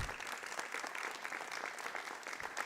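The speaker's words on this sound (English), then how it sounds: "Just another round of applause to all of our honorees tonight" Round of applause for honorees at a school district board meeting, a brief, fairly faint wash of clapping from the room lasting under three seconds.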